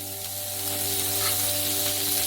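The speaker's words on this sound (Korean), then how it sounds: "후라이팬을 스토브에 놓고 올리브 오일을 붓고 양파를 볶아주세요." Onions sautéing in olive oil in a frying pan, a dense, even hiss of sizzling close up, with a steady low hum running underneath throughout.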